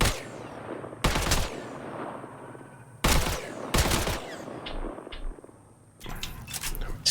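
Rifle gunfire from the Mass Effect Andromeda video game: several loud, sharp bursts of shots at roughly one-second intervals, with game ambience and a steady whine between the volleys.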